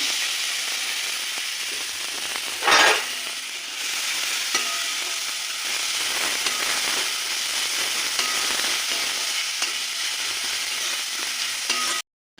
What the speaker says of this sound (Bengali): এই যে রসুন কুচিটা একটু ভাজা হয়ে গেলে যে গ্রেড করা এটা আছে এটা দিয়ে একটু নেড়ে